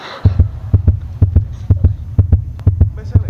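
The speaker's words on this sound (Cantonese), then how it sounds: "係你嘅心跳聲啊！" Heartbeat sound effect in a stage drama: a loud, close, fast lub-dub thumping in even double pulses, about seven beats repeating steadily on their own.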